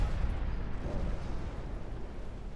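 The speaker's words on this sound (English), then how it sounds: "Torpedo hit. Flooding!" A torpedo strikes a warship in Ultimate Admiral: Dreadnoughts, producing a deep, continuous rumbling boom that rolls on with a dense, muffled roar.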